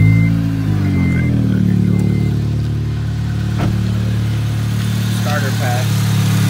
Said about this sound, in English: Start the car up to see if the starter and the alternator is good